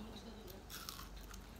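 Crunchy bites into dried adobo saluyot greens with chili, eaten close to the mic: a couple of crisp crunches followed by chewing, faint and intimate, with no speech.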